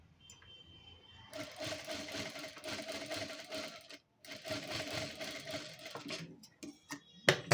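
A sewing machine stitches fabric for a star-shaped neckline in rapid, rattling bursts, running steadily for a few seconds, pausing briefly, then resuming, close by with a few faint clicks at the end.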